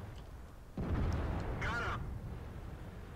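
Tank cannon firing an armor-piercing gold round in World of Tanks from an M103, a single deep booming shot with a rumbling tail, fairly close and heard alone.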